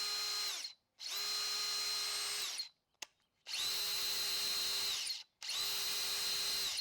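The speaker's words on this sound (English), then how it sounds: "On the drill, you do have a variable speed trigger and 2 speed settings." A RIDGID subcompact cordless drill whirs at high speed in three long bursts with short pauses between, close and steady, with no talking.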